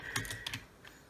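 Quick, uneven keystrokes sound from a computer keyboard being typed on with one hand. A few soft clicks come in bursts, close but faint, and no one is speaking.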